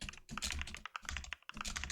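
Quick typing on a computer keyboard, a close, rapid patter of crisp key clicks in short bursts with brief pauses.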